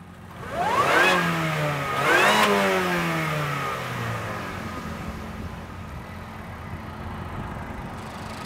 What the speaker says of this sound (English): So I'll give it some revs so you guys can hear.